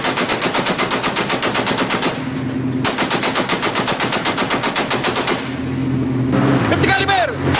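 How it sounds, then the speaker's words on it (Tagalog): Sustained bursts of .50 caliber machine gun fire from Navy ships at sea battling rebels hiding in mangroves, loud rapid rhythmic volleys with brief pauses, voices shouting near the end. "Pero ang mga putok mula sa mga barko ng Navy, tinatapatan ng ganti mula sa mga rebeldeng nagtatago sa mga bakawan."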